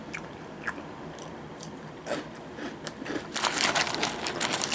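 Someone bites and chews a crunchy Haitai whole-wheat Saluvia stick snack, a barley-biscuit-like cracker about 10 cm long. Close, crisp crunches start sparse and become dense and louder toward the end.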